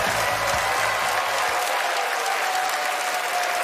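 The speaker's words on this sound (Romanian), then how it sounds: "haideți cu un rând puternic de aplauze pentru invitații de astăzi" A studio audience at a comedy improv show gives a strong, sustained round of applause for the guests, dense even clapping with a brief low musical sting at the start.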